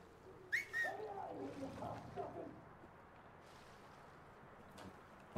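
A game character whistles twice in Mafia III Definitive Edition, short rising notes over steady outdoor ambience near water, faint and soon fading into background hiss.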